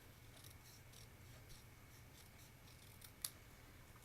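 Scissors trimming a strip of paper for a stamped card, soft quiet snips and rustles close by, with one sharper click near the end.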